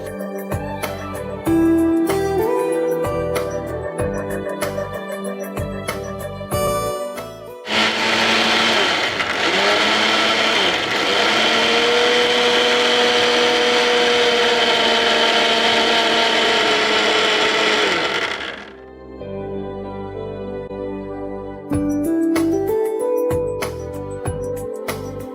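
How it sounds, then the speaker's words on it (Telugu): A kitchen mixer grinder whirs loudly and steadily for about ten seconds as it grinds multi dal dosa batter with water, with music before and after the run. "మిక్సీ పట్టేసుకో"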